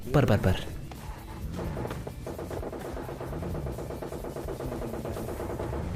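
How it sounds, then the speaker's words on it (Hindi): A loud burst of gunfire in PUBG Mobile Lite opens the clip, then someone talks steadily over busy in-game background noise. "यहाँ से गनशॉट की आवाज़ आई और बिल्कुल सामने से आई थी"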